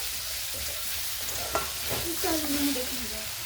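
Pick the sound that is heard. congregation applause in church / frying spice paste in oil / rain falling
frying spice paste in oil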